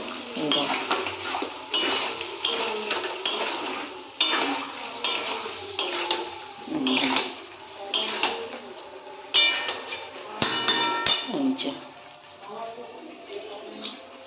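Spice paste is stirred in a cooking pot for a potato curry, with a spoon scraping and clinking against the metal in a steady rhythm of strokes. The stirring runs throughout, close and fairly loud, with some background noise.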